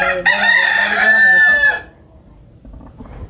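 A rooster crows once, loud and close, its call rising then fading into quiet background.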